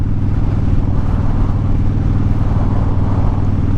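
A motorcycle engine pulls hard under acceleration while riding, a loud, steady low drone with no voices.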